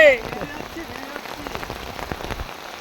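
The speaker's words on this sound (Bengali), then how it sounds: "চরম বৃষ্টি হচ্ছে বন্ধু" Heavy rain falls hard on surfaces nearby, a thick continuous patter with sharp individual drop hits, heard on a rainy day beside the Ganges while someone holds an umbrella.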